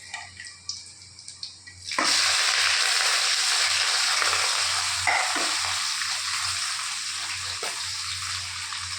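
Garlic, onion and green chilli hit hot oil with a sudden loud hiss, after a few light clinks, then settle into a strong steady sizzle with occasional stirring scrapes and no voices.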